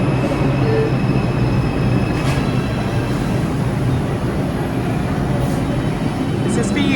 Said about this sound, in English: So we just got off the subway station at Times Square.